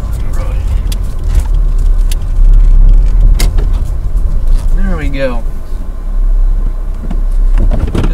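A car being reversed and parked off a road with tight bends: engine rumble with knocks and clicks, a brief rising mechanical whine partway through, and someone speaking briefly.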